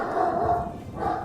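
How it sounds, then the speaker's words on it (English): A dog barks indoors in short, fairly loud bursts, reacting to people walking by outside, with no talk over it. "My dog's going off."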